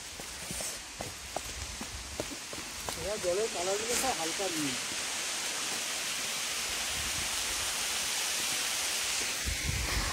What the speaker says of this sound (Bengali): কারণ এই ওপর থেকে জলগুলো পড়ছে।